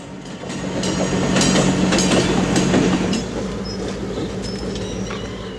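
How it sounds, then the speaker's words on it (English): Santa Cruz and Monterey Bay Railway freight train led by locomotive 1101, heading to Watsonville Junction near a beach bridge, rumbling past loudly with steady rolling wheel noise and clatter, fading slightly toward the end. "In this shot, 1101 leads the train to Watsonville Junction."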